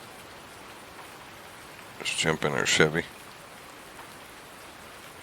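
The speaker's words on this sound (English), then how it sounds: "Alright, it's raining" Steady in-game rain from Farming Simulator 19 hisses evenly throughout, with a voice speaking briefly over it in the middle.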